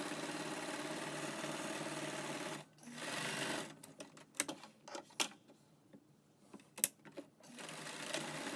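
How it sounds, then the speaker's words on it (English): Sewing machine stitching the edges of a homemade fabric mask, running in a steady fast whir that stops, then restarts in short quick bursts with gaps between them, fairly faint and close. "so now you guys get to watch me sew really fast."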